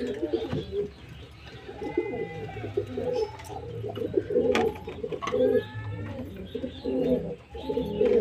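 Domestic pigeons sitting on a clutch of two eggs give soft, repeated throaty coos and murmurs at close range, with a few faint chirps mixed in.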